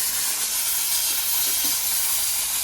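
A pressure cooker hisses a steady, loud stream of steam while water leaks from it, a broad continuous rush with no voices over it.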